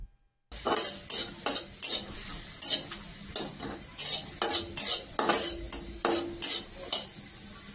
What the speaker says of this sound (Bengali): কিছু রসুন কুচি, পেঁয়াজ কুচি একসাথে ভেজে নিচ্ছি